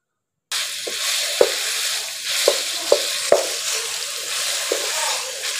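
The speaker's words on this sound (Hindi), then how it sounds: "इसको पहले हम जरा हल्का सा फ्राई करेंगे।" Minced meat (keema) frying lightly in a pan, a steady hiss of sizzling with several scraping knocks of a spoon stirring it, close and without talk.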